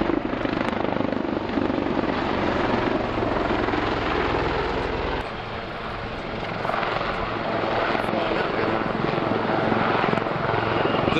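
A Royal Navy Lynx Mark 8 helicopter roars through an airshow flying display, its dense rotor and engine noise loud and sustained, dipping briefly midway before swelling again as it passes close.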